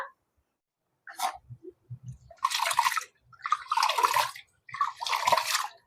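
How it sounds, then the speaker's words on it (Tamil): White raw rice being washed by hand in water, with a few soft sloshes, then three bursts of splashing and swirling water separated by short pauses. "இப்ப நான் இந்த அரிசியை கழுவி எடுத்துக்கொண்டு வரேன்னா"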